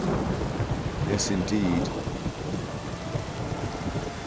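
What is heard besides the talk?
rain and thunderstorm in video game The Witcher 3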